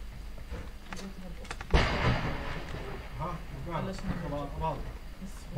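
Gunfire in the video game PUBG, set in a tropical jungle map: one loud sharp shot or blast stands out midway, with fainter scattered pops around it, all under ongoing talk from players.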